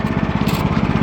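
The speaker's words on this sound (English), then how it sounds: "So let me go ahead and turn the fuel on. We'll let it idle. High idle." A small engine running steadily at high idle, with a loud, close, even chugging pulse and no speech.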